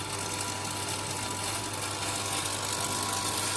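Model 811 sesame seed oil press running with a steady, faint mechanical hum and whir, even and unbroken, with no speech in the moment.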